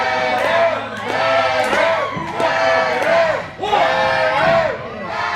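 A Christian Wrestling Federation crowd cheers loudly for the CWF champion at a live wrestling event. Many voices yell and chant in rising, sustained waves throughout, with only brief dips between surges.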